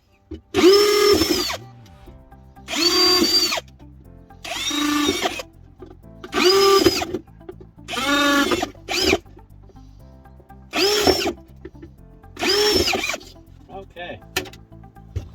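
A power drill boring drainage holes in a plastic propagation container, heard as eight loud, separate whirring bursts of about one second each with short pauses between them, close to the microphone and with no one talking over them.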